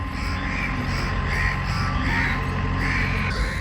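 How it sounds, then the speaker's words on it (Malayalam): Crows cawing at a temple in Kannur, with repeated caws at a regular pace over a dense, steady outdoor background, no talk. "കുറേ കാക്കകളും കണ്ടോ, കാക്കയും പ്രാവും എല്ലാം ഉണ്ട് കേട്ടോ"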